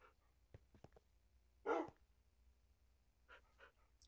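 A dog barks once in the ChainWorld video game, a short, moderately loud woof with a few faint clicks and scattered quieter sounds around it.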